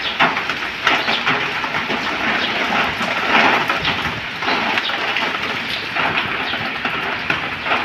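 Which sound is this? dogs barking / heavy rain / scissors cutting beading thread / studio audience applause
heavy rain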